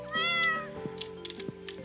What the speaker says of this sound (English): My cat's in the way.